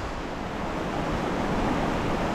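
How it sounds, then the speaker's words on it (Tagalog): Strong water at a hidden lake surges and splashes in a steady, loud, rushing roar, with no breaks and no voices. "Lakas po ng palo ng tubig oh."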